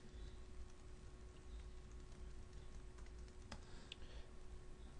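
Steady, rapid typing on a computer keyboard while entering code, with even clicking keystrokes running throughout at close range and no talking.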